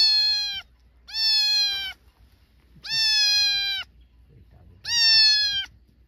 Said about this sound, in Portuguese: Olha o tanto de gato, homem.